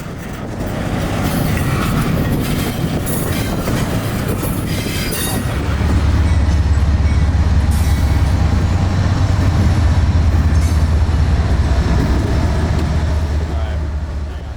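A CSX intermodal freight train hauling UPS trailers and containers departs Uceda for Jacksonville, its rumble steady and loud throughout and a deep locomotive drone swelling from about six seconds, with faint wheel squeal and clatter.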